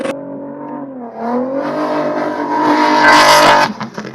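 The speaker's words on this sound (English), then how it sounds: "So every 2 minutes, we're gonna have a car starting now." A rally car engine revs hard and climbs in pitch as it launches from a desert stage start, loud and close, with a burst of tire and gravel noise near the end.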